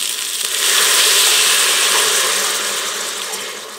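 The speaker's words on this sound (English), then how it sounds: "Pour some chicken broth in there." Chicken broth poured into an Instant Pot to deglaze the bottom: a loud, steady gushing splash of liquid that swells after a moment and holds for a few seconds before easing off, with no talking.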